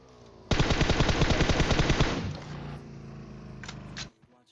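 Automatic gunfire from PUBG Mobile: one loud, rapid burst of about a second and a half that fades into a ringing tail, followed by a couple of quick shots near the end.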